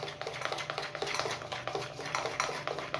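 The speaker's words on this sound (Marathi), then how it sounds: "तो आपण यामध्ये घालून घ्यायचा आहे आणि एकदा व्यवस्थित मिक्स करून घ्यायचं आहे" Kadhi pakoda batter being whisked with baking soda in a bowl, a steady run of quick scraping and tapping strokes against the bowl, close and fairly busy, with no talking.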